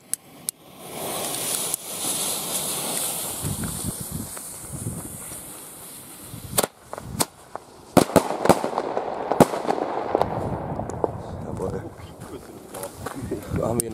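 Fireworks set off outdoors at New Year: several sharp bangs and crackling bursts, some close and loud, others scattered, with voices talking and calling throughout.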